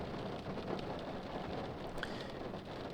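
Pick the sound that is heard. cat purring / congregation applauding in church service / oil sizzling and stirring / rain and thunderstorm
rain and thunderstorm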